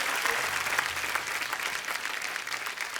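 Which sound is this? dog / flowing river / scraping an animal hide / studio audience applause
studio audience applause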